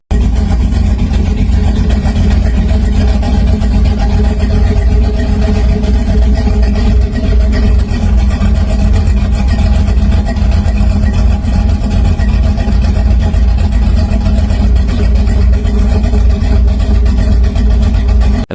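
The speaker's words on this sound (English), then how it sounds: "This is a 1930 Hot Rod." A 1930 hot rod's engine runs loud and close, a dense, continuous rumble with steady throbbing and no pauses throughout, no talking heard.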